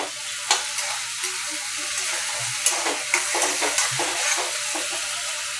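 Paneer bhurji being stirred and cooked in a pan, a constant sizzle broken by repeated scraping and tapping strokes of the spoon, close and fairly loud.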